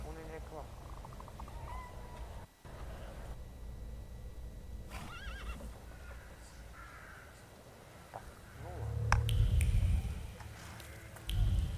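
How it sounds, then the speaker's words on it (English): A horse in the video game The Thaumaturge whinnies and snorts under steady talk, with a louder burst of hoof and movement noise near the end. "I meant to take the horse out for a ride"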